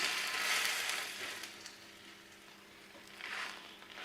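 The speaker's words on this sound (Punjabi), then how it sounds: "ਘਰ ਦਾ ਮੱਖਣ ਲਾ ਕੇ ਆਪਾਂ ਬ੍ਰੈਡ ਤਲਾਂਗੇ" Bread fries in a pan with homemade butter for a sandwich, giving a soft, steady sizzle with brighter crackling bursts at the start and near the end. No one talks.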